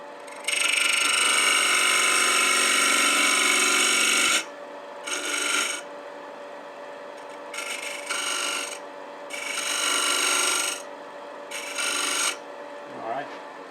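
A 3/8 inch detail gouge cuts wood on a lathe while turning a lidded box with feet, giving a long rasping scrape followed by several shorter cuts with brief pauses, over a steady motor hum.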